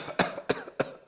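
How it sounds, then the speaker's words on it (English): Three short, sharp coughs in quick succession, close and fairly loud, with no talking. "Coughing."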